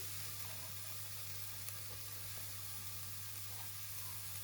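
Mushrooms and peppers fry in a pan with a steady, soft sizzle, a continuous hiss over a low hum, with no talking.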